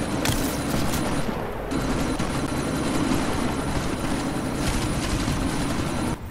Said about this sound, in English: need to disable that chopper